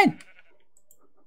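A single Minecraft sheep bleats once, close and clear, at the start, then quiet follows.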